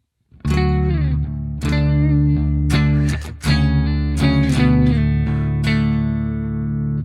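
Clean electric guitar chords through a Fender Twin amp model on a TONEX ring out one after another, each strummed and left to sustain, bright and full with a slight shimmer.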